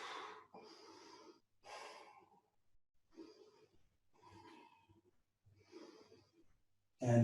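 Slow, audible breaths exhaled during a yoga breathing exercise, several soft airy outbreaths with pauses between them, close and fairly quiet with no talking.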